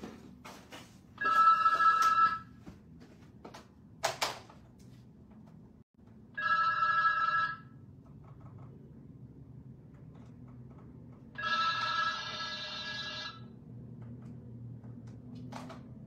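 A telephone rings in three separate bursts of electronic trilling, each a second or two long with quiet gaps between, over faint room noise and a few clicks.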